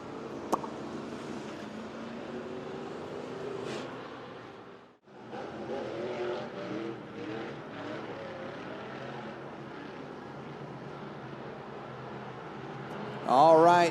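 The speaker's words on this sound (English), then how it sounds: "The car got refired now." Sportmod race car refiring on a dirt track at Eagle Raceway, its engine droning and revving steadily at a distance, briefly cutting out before picking back up, with a louder burst near the end.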